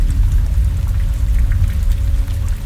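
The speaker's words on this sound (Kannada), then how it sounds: "ಈಗ ಮಳೆ ಬೇರೆ ಬರ್ತಿದೆ" Steady rain falling, a dense, even patter of drops on surfaces that fills the whole stretch at fairly high level, with a low rumbling undertone and no voices.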